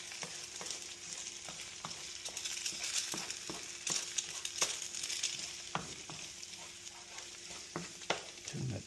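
Scrambled eggs sizzle in a pan while being stirred and mixed, steady frying hiss punctuated by repeated spatula taps and scrapes against the pan throughout.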